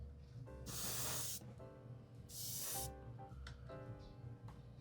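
Tamiya spray-can paint hissing out in two long, loud bursts, applied to a Toyota Supra model, with background music playing throughout and no speech.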